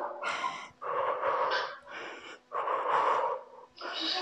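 Heavy, rhythmic breathing during a HIIT workout at home without equipment, several close, loud gasping breaths in quick succession with no talk.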